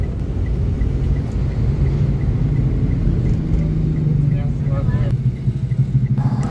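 Steady low engine rumble and road noise inside a ride-hailing car moving through morning city traffic, a continuous close drone with no speech.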